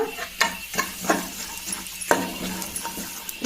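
Curry leaves, two sprigs, dropped into hot oil while making kuttavalakki, a Kannada beaten-rice snack, give a steady crackling sizzle with sharp popping bursts and spattering, close up and with no talk.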